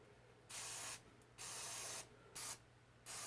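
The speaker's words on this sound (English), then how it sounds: "Now it's time for a real quick flushing spray" Four short hissing bursts from an aerosol can of DeoxIT contact cleaner sprayed into a 1947 Scott 800B radio receiver, each about half a second long, with quiet pauses between them.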